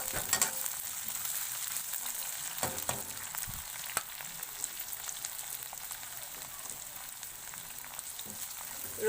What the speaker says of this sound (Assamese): ৰঙচুৱা নোহোৱালৈকে মই ভালদৰে ভাজি লৈছো।